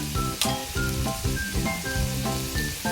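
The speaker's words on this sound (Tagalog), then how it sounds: "antayin natin na ang ating uh, bacon ay mag-golden brown" Bacon frying in a pan until golden brown for a creamy pasta, a close steady sizzle with crackles, heard under background music.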